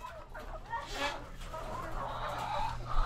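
Poultry clucks and soft calls from a small batch of young chicks, close by over a low steady hum, with someone talking.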